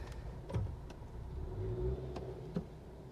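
A Honda CR-V, model years 2017 to 2022, being driven: a steady low engine hum and road noise with a slight rise in revs, a few faint clicks and knocks, and no talking.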